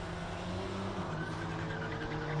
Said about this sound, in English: The Jaguar with the Ford 6-litre engine in it. V8 supercar, it's a beaut.